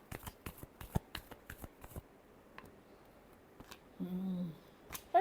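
Tarot cards being shuffled by hand, a quick run of crisp riffling flicks at the start, then sparse light taps and a short murmur of voice near the end, all close and quiet.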